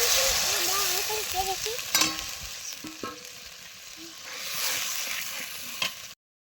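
Food frying in hot oil with sour yogurt added, a steady close sizzle with occasional stirring knocks against the pan, while a faint tonal background sound wavers underneath.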